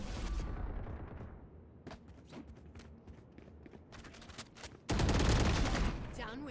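Rapid bursts of gunfire in a video game, firing in quick volleys with a louder, denser burst near the end, while a voice briefly speaks over the shots.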